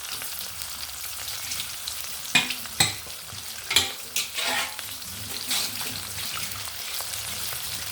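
Ivy gourd curry sizzling softly in hot oil while being stirred, with a few scraping spoon strokes against the pan and a steady low frying hiss, close up, no talking.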